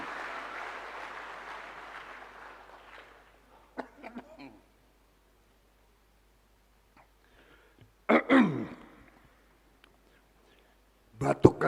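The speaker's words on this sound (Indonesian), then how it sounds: "batuk karena semangat." Coughing at a presidential address to teachers and school principals, heard as a few short, sharp bursts separated by silence after a fading stretch of speech.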